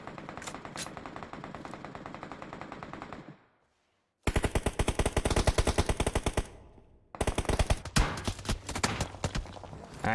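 Rapid automatic gunfire in PUBG Mobile, loud and close, in long dense bursts broken by a sudden silent gap, then more bursts of shots with game effects layered underneath.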